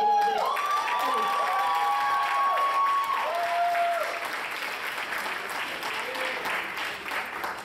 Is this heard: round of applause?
yes